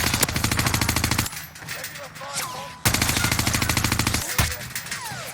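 Rapid automatic gunfire in the video game Warzone rattles in loud, dense bursts, broken by short gaps and a few thuds.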